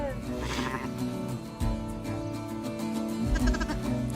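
Sheep on a farm around shearing time bleat several times, loud and close, their wavering calls overlapping with people talking nearby.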